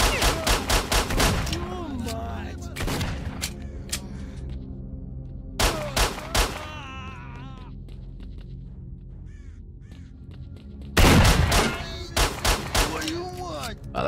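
Gunfire in S.T.A.L.K.E.R. Shadow of Chernobyl, with loud shotgun blasts in several sharp clustered bursts separated by quieter stretches, alongside a talking voice.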